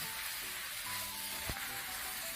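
Eggplant and pork stir-frying with an all-purpose seasoning sauce: a steady, dense sizzling hiss throughout, with a single brief knock of the utensil partway through.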